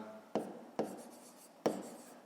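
Pen or pencil on paper during a fifth-grade maths exercise, three distinct scratchy strokes of handwriting spaced unevenly across a couple of seconds, close and quiet with no talking.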